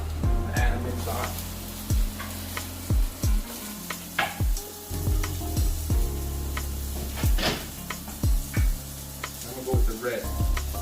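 Julienned vegetables sizzle in a frying pan, a steady hiss broken by repeated sharp scraping and tossing knocks in an irregular rhythm, close and fairly loud.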